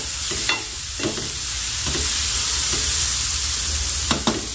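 Cluster beans cooking without added water in a covered pan on their own steam, giving a constant close sizzling hiss with a few soft clicks and stirring knocks.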